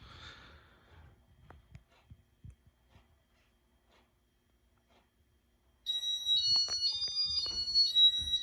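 After a stretch of faint rustling and near silence, a Casablanca Panama 5 Inteli-touch ceiling fan plays a short electronic beeping melody, high and clear, a handful of tones in quick succession.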